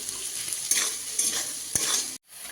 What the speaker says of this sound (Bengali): এবার আলুটাকে একটু ভালো করে একটু ভেজে নেব।